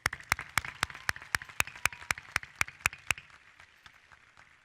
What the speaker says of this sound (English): That deserves a huge round of applause.